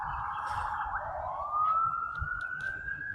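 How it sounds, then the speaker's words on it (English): An emergency siren wails from a distance, its tone sweeping and then holding steady over low rumbling street noise, with no speech. "It's not one video that I make where you don't hear siren noises in this state."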